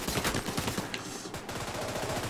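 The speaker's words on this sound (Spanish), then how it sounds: "No sé por dónde vienen los disparos." Sustained automatic gunfire in The Division 2 chatters in quick repeated bursts, dense and fairly loud, with a brief lull midway.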